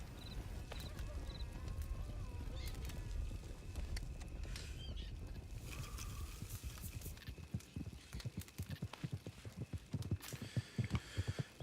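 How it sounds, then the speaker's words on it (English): Horses carrying riders come over a hill in a western ranch roleplay game, their hooves clopping in an uneven patter that grows denser and more distinct toward the end, over a constant outdoor ambience. "I hear some riders on the hill"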